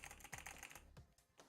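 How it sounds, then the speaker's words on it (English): Quick bursts of typing on a computer keyboard, close and fairly soft, a rapid patter of key clicks followed by a few separate, heavier keystrokes. "The all this stuff I'm typing in right here"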